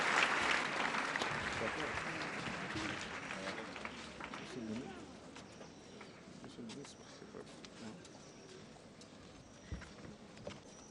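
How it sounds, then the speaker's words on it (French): Applause from a crowd, loud at first and then slowly thinning out as the clapping fades. "Sous vos applaudissements, s'il vous plaît."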